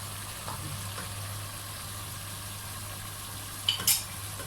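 Potato and cauliflower frying with spices in a pan, a steady low sizzle with occasional light stirring taps and a brief sharper clink near the end, no voices.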